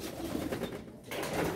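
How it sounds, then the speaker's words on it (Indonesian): A male and female fantail pigeon coo softly and low, murmuring along steadily, with a brief quieter gap in the middle before the cooing resumes. "ini merpati kipas jantan dan betina"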